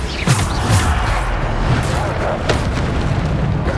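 In Hogwarts Legacy, Bombarda spell blasts thump and boom amid a continuous roar of combat noise, loud and close, with brief sharp cracks.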